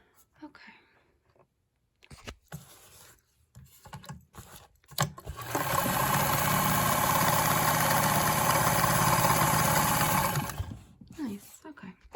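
A vintage Super Zigzag Domb-B sewing machine runs in a steady mechanical whir for about five seconds, with faint clicks and soft handling noises before and after it.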